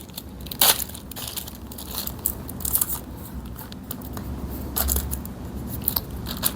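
Tape is pulled and torn to fix a trash bag to a desk in a cosmetology exam setup, giving close crinkly ripping and rustling in irregular bursts.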